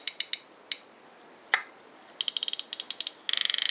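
An oiled vintage Youngs-built centrepin fishing reel turns close up, its ratchet giving sharp isolated clicks at first, then faster runs of rapid metallic ticking as the spool spins.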